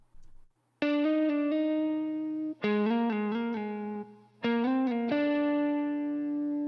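Telecaster electric guitar lead track playing sustained, harmonically rich notes in several phrases with brief gaps, loud and close with a steady low hum underneath.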